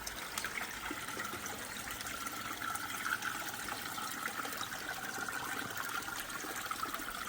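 Steady, close rush of water from a pond trickle filter working alongside a drum filter, a constant splashing trickle with no pauses and no voices.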